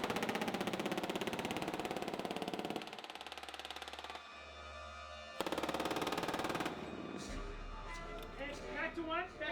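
A 240 Bravo machine gun fires on a film set in long, loud, rapid bursts, broken by a pause where a low idling engine hum remains before the firing resumes and then trails off.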